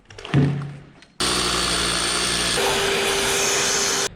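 After a short thud and rattle, a power drill whirs loudly and steadily for about three seconds in a workshop, its pitch shifting slightly midway before stopping abruptly.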